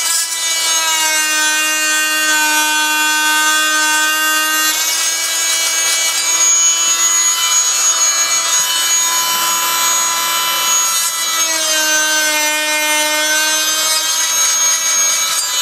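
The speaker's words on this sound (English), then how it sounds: "We're just going to cut the tops of the plugs off" Fein oscillating multi-tool trimming the tops off wooden plugs, a steady, loud buzzing whine with strong harmonics that shifts pitch slightly as the blade bites into the wood, running continuously without a break.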